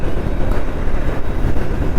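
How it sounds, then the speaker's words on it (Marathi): A train rumbling past near Tamhini Ghat, a loud, continuous low roar with rhythmic thumps of wheels on track. "बघा ट्रेन चालली"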